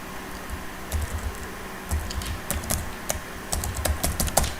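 Typing on a computer keyboard, clusters of quick key clicks in short bursts with brief pauses, fairly close and clear, no voices.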